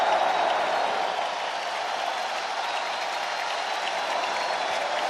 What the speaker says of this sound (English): And here comes the crowd at American Family Field.